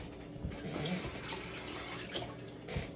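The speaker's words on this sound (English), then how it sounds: "So let me wash these two wieners off." A kitchen tap runs steadily while hot dog wieners are rinsed under it, a soft continuous splash with faint shifting as the water hits the food, fairly quiet and without talk.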